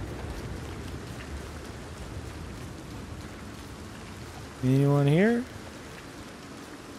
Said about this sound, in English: until the rain blows over